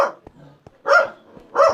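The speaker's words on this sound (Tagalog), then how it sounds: "Maingay yung aso namin. Napakaingay nila guys." A household dog gives two loud, close barks about half a second apart, with faint clicks and a soft low tone in the quieter gap before them.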